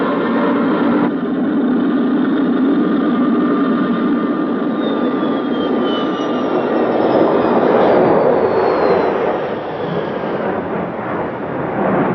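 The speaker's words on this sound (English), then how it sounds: "The TU-144 made 3 passes over the airfield." A Tupolev Tu-144 supersonic airliner passes over an airfield, a loud continuous jet roar that swells and fades with a faint descending whine, heard alone.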